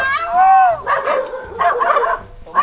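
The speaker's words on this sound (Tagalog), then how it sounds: "Parang marami ng aso ngayon" Several dogs bark and yip in quick bursts, close and loud, with some whimpering mixed in, while people talk over them.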